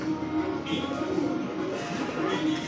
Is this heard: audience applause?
no